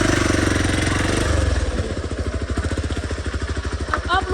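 A motorcycle engine runs close by, thrumming steadily and then settling into a fast, rhythmic pulsing as the revs shift, loud and with no one speaking.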